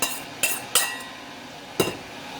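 Sausage added back into a skillet of sautéed cabbage, giving a few sharp metallic clinks and taps of a utensil against the pan, spaced irregularly over a soft sizzling background.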